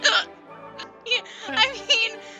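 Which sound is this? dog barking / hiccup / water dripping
hiccup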